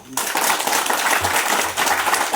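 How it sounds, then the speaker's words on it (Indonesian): A crowd at a political coalition victory declaration in Sarmi erupts into loud, continuous applause after a dignitary is greeted, the clapping dense and close with some voices underneath. "kita tepuk tangan"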